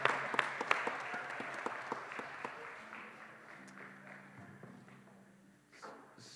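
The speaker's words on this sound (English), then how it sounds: "Let's give him a round of applause." Applause from a small audience, distinct sharp claps in a quick rhythm at first, then fading and thinning into scattered taps and soft murmurs, with a low hum in the background.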